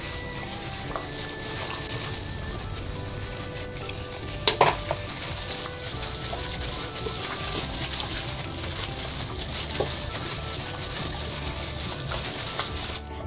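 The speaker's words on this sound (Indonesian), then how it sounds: "Lalu diaduk rata." A cucumber mixture seasoned with oyster sauce and cornstarch is stirred in a pan, giving a steady, continuous scraping and sizzling texture with a couple of brief knocks, and no voices.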